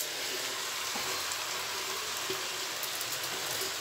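Vegetables and rice frying in a pan at home, a steady soft sizzle with faint scattered crackles throughout.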